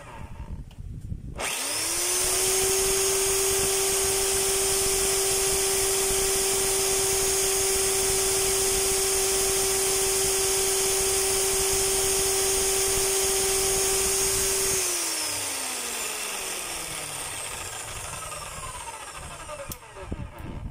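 A Stanley STHM10 demolition hammer motor spins up sharply, holds a loud, steady electric whine for about thirteen seconds, then winds down with a falling pitch, close by and alone.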